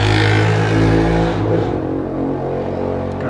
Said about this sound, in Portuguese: Tá tendo uma competição de moto aqui na frente da minha rua.